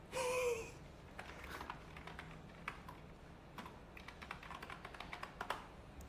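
Quiet, irregular keyboard typing with scattered clicks and taps after a brief louder burst at the start, fairly close and alone.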